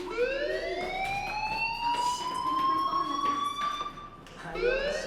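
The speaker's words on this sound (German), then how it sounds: "Hey, do you hear that fire alarm?" A fire alarm in the video game Life Is Strange wails continuously, a loud rising and sustained electronic tone that dips briefly before rising again, heard alone without talk.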